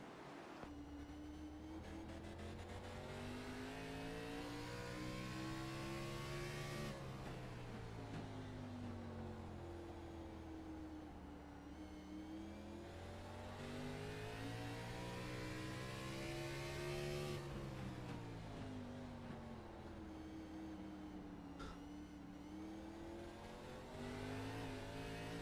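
An onboard engine in a NASCAR Xfinity car at Martinsville in a sim racing game, revving hard and easing off in repeated cycles down the straights and through the corners, loud and continuous.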